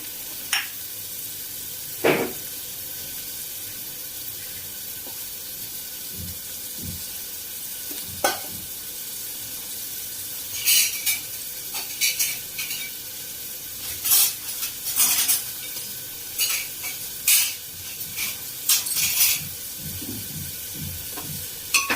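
Onions sizzle in a hot pan, a steady crackling hiss with occasional louder bursts and stirring scrapes, close and no one speaking.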